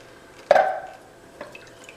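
Water splashing into an empty 15-ounce can while filling it for Zuppa Toscana, one sharp pour-in splash followed by fainter trickling and small drips.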